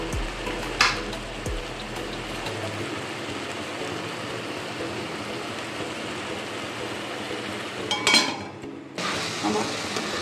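Spices for chana paneer masala are stir-fried in a pan, giving a steady, close sizzling hiss with occasional scraping stirs and a brief clatter near the end.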